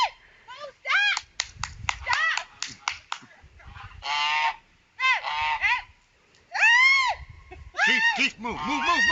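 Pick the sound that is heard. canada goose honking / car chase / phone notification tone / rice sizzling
canada goose honking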